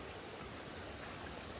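A small river at Laurel Fork flows along an icy trail, a steady, soft, even rush of moving water heard alone.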